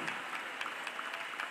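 Audience applause at a church youth convention sermon: steady, dense clapping from a large crowd, continuous and fairly far off, with no clear voices over it.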